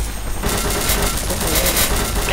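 Rapid gunfire from a powerful gun in a video game, a dense continuous burst of shots that stays loud and near throughout.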